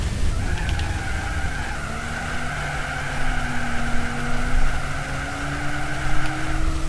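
A heavy minivan in Gran Turismo 4 strains at full throttle during a license test, its droning engine note holding steady and climbing slowly in pitch, continuous and loud with no voices.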